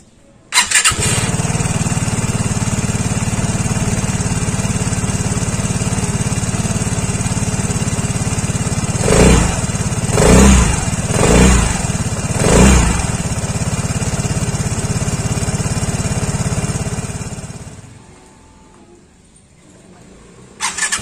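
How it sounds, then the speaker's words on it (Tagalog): A 2022 Vespa Sprint S 150 scooter starts and settles into a steady, buzzing idle, with a few louder throttle blips midway before the engine cuts off, heard up close and without talking. "At yun na nga yung tunog pag ini-start tong Vespa Sprint"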